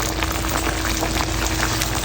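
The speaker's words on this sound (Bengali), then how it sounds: "এটা পাঁচ মিনিট ফুটবে বেশি ফুটবে না" Golden pomfret fish curry simmers in a pot with taro and potato, made from fried fish and added water. It gives a steady, close bubbling and hissing boil that stays even throughout, with no speech.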